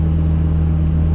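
A Mitsubishi Evo IX at full boost near 4,700 RPM gives a loud, steady low engine drone throughout a brief moment, close and continuous.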